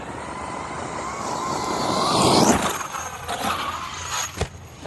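A 5T-scale RC truck with a Hobbywing Max4 800kv motor on 12s power, driving on a flapping, ballooning tire; an electric motor whine rises and sweeps, then drops into rattly bursts, with no voices.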